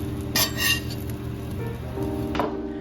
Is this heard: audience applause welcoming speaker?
no